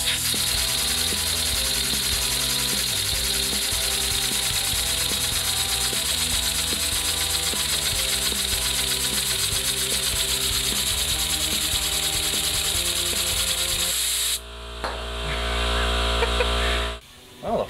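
A LEGO model steam engine with a flywheel running, a loud steady mechanical whirring and rubbing drone with a rhythmic cyclic chug, then shifting to a lower hum before cutting out near the end.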